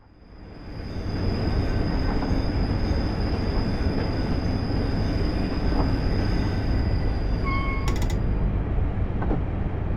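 Isle of Wight railway train running on the rails, a loud, continuous rumble of wheels and rolling stock that builds up in the first second, steady and close, with a faint squeal and a brief high tone near the end.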